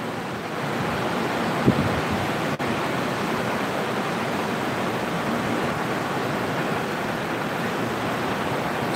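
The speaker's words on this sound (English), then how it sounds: "as well as the ocean waves coming in." Ocean waves rolling in on the beach at Indian Rocks Beach, Florida, a steady broadband wash of surf that holds evenly throughout, with one brief tap partway through and no talking.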